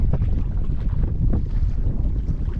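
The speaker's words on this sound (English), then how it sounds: "It's getting windier now." Strong wind roars steadily in the Temagami backcountry, buffeting the microphone with a dense low rumble and gusty surges, with no voices.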